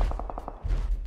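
A quick burst of about six evenly spaced gunshots from a PUBG match, loud and close, followed by a low rumbling stretch.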